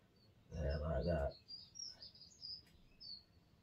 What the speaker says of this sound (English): The dicky birds are singing.